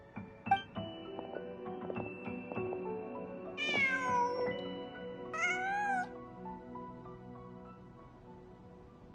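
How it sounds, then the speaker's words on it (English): Two drawn-out, rising-then-falling cat meows in Genshin Impact, loud and close, over a quiet game music bed with soft plucked notes. "Huh. Just a cat."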